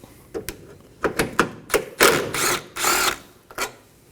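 A 10mm bolt is loosened on the headlight assembly of a 2015-2023 Nissan Maxima, heard as close, short bursts of power-tool whirring and ratcheting rattles in quick succession, with no voices.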